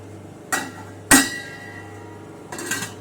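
A metal lid clanks onto a steamer pot of kolukattai in a home kitchen, with a light knock, a louder sharp clink, then another rattle as it settles.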